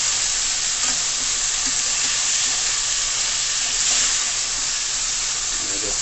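Canned ackee, rinsed in cold water, sizzling and hissing in a hot frying pan, a loud steady crackle of frying close up that continues without a break.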